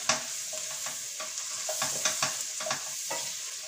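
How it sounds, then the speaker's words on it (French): Spices stir and toast in a hot pan with a constant sizzle, broken by repeated scraping strokes of a spoon across the surface. "On mélange bien le tout."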